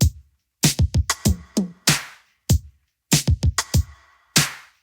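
A Linn LM1 drum machine plays a beat, with punchy kicks, snappy claps and ticking hi-hats in a tight, syncopated pattern, loud and close with short silent gaps between phrases.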